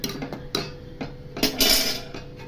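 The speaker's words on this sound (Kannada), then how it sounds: "ಮುಚ್ಚಳ ಮುಚ್ತೀನಿ" A lid set down on a cooking pot while amaranth greens and field bean dal simmer, giving a few sharp metallic clinks and taps spaced through a short, quiet stretch, with no one talking.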